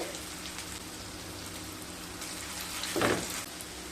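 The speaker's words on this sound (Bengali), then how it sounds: "তেলটা গরম হয়ে গেছে, এবার ফ্রাই করে নেব।" Potatoes frying in hot oil, an even, close hiss of bubbling fat with a brief louder crackle near the end.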